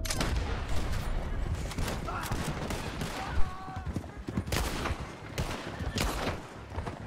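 Rifle gunfire in Red Dead Redemption 2 comes as a dense, continuous fusillade of rapid cracking shots and impacts, loud and close, with a faint voice underneath.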